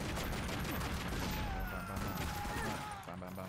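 Rapid burst of gunfire in the Tomb Raider Legend video game, dense overlapping shots forming a continuous fusillade that stays loud throughout, with faint speech mixed underneath.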